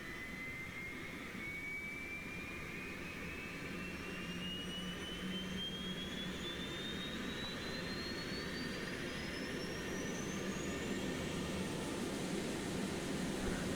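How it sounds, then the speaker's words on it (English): A Boeing 727 auxiliary power unit spools up in the FlyJSim flight simulator, giving a steady turbine roar with a thin whine that climbs gradually in pitch across the whole clip. "That's telling us that the APU is starting."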